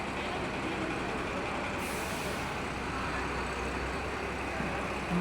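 A KSRTC bus at the busy Davangere bus stand rumbles with a heavy engine, and a sharp hiss of air brakes bursts out partway through over the constant background din.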